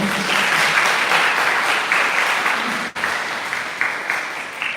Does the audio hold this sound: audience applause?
yes